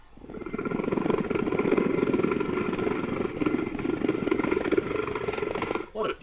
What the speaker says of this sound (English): This helicopter Mi-17 is flying through Namche Bazaar in Nepal.